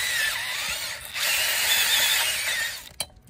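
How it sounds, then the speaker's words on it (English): A power drill bores slowly about three inches into lawn soil to make holes for St. Augustine grass plugs, a close, steady whirring grind lasting nearly three seconds before cutting off with a brief clunk. "So go in and you're just gonna start to drill slowly."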